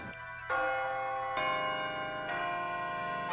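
A church bell tolls loudly and steadily, each stroke ringing with a rich, sustained hum that overlaps the next, with no voices.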